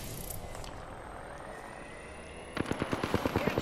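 Rapid bursts of automatic gunfire in a shooter video game, a quick run of sharp cracks arriving toward the end over a steady, low background hum.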